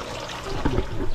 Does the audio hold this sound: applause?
no